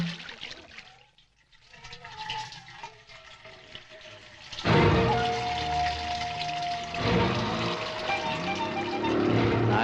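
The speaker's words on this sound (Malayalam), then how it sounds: "നിന്ന് ചൊറിയാതെ വെള്ളം ഒഴിയടാ" Water runs from a public municipal pipe tap: after a few quieter seconds of faint knocks and trickling, a loud, steady gushing rush starts abruptly and continues to the end, close by.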